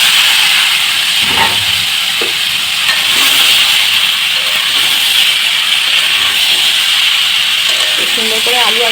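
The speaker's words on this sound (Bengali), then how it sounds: "সুন্দর করে আলু আর ইঁচড়টাকে একসাথে ভেজে নেব।" Potatoes and jackfruit fry together in a pan with a loud, close, continuous hissing sizzle. Faint clinks from the pan or a spoon sound now and then, and a voice speaks intermittently under the frying.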